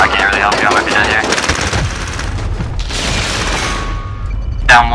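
Heavy automatic gunfire from Call of Duty rattles in sustained loud bursts with explosive booms, a player's voice talking over the shooting.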